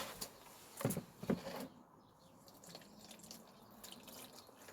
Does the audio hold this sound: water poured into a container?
yes